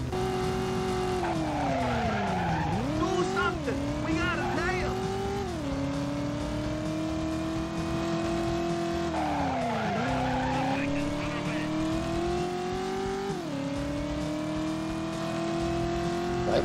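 A fast car in the video game Driver: You Are the Wheelman skids with repeated tire squeals over a loud, steady engine drone that rises and falls through each corner.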